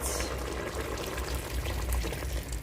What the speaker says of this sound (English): So I'll add a bit more water to the pot